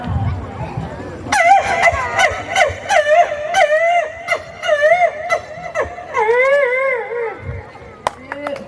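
Someone imitates a hurt dog with a run of high, wavering yelps and whines, loud and close, trailing off at the end.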